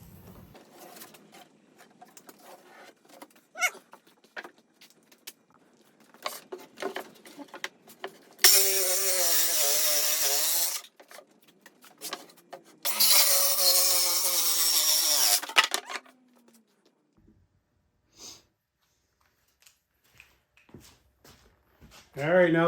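Power tools cut out seat bases for an M38A1 jeep in two loud, sustained whining bursts of a few seconds each, separated by a pause, with scattered clanks and speech around them.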